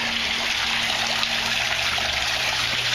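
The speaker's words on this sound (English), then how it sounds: "I put a little over 5 gallons into this system" Water pours steadily into an aquaponics system, a continuous close splashing rush with a low hum underneath and no voices.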